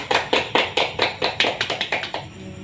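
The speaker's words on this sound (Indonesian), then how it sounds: "bisa tepuk tangan untuk temannya" Classroom students clap for a classmate, a quick run of about a dozen sharp, rhythmic claps from a small group that tapers off near the end.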